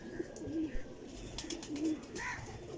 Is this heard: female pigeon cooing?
yes